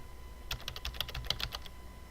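Quick burst of keystrokes on a computer keyboard, about a dozen light, close clicks in an irregular rhythm over roughly a second, quiet and alone with no talk.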